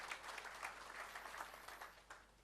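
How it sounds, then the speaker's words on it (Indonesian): Congregation clapping at a church service, a dense spread of hand claps sustained and fairly faint, as if heard from across a hall, with no voices over it. "Kasih tepuk tangan buat Tuhan."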